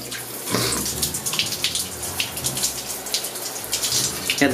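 A shower runs in a steady splashing stream, water pattering and gushing unevenly as something moves under the spray, close and fairly loud with no voices.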